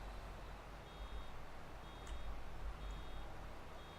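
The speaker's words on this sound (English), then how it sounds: "I'm going to be full here real quick, and we'll have the annoying alarm again." A baler's full-capacity alarm in Farming Simulator 22 sounds as a regular series of thin, high beeps, roughly one per second, fairly quiet over a low machinery rumble.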